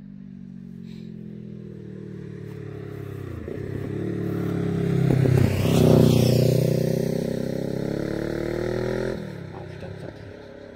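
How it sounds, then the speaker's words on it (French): A motorcycle passes by outdoors, its engine rising to a loud peak midway and then fading off with a falling pitch as it moves away, heard alone without voices. "Une moto là qui passe, ça pue autant que si un camion de 40 tonnes qui passe."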